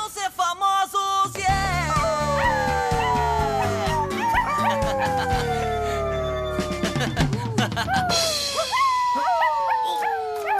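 Several dogs howl together in rising and falling tones, broken by sharp barks and yips, loud and close throughout with a chaotic, chorus-like feel.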